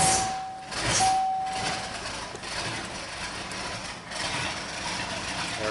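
A 1981 Mercury Marquis engine runs at about three-quarter throttle after a cold start at -26°C, a steady low drone with a brief surge near the start.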